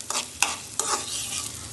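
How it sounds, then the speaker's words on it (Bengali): Ingredients are stirred and fried in hot mustard oil before red amaranth greens go in; three or four quick spatula scrapes sound over a soft, steady sizzle. "আর এটাকে এখন আমি একটু নেড়ে চেড়ে দিব। আর হালকা একটু ভাজা ভাজা করে নিয়ে আমি লাল শাক দিয়ে দিব।"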